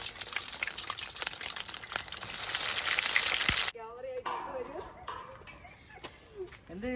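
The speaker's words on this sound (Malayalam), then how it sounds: "നമുക്കിനി കട്ട്ലേറ്റ് ഫ്രൈ ചെയ്യാം." Cutlets fry in hot oil for a Kerala Christian wedding lunch, a loud, steady sizzle that cuts off abruptly partway through, followed by softer crackling under talking.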